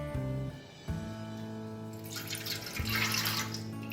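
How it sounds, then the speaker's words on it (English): Water is poured into a bread mixer container while making plain bread, a steady pouring splash that grows fuller toward the end, faint and close. "pour the water into the bread mixer"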